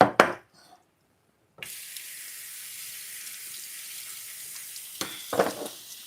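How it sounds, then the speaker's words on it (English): Tap water runs steadily into a sink to rinse soaked, parboiled cowpeas, starting after a brief splash and silence, with clattering handling sounds near the end. "I'm going to go ahead and rinse them."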